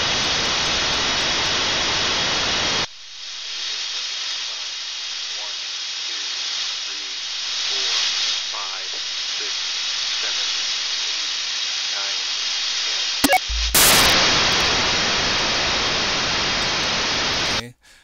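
FRS walkie-talkie transmission received on an SDRplay receiver: a loud steady hiss of static, then quieter, with faint warbling and tones underneath, a sharp blip, and the static returning until a sudden cutoff.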